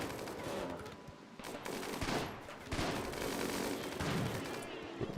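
Turrets fire in the RimWorld video game, giving fast overlapping bursts of gunshots and dense fusillade-like crackle that carries on throughout with little pause.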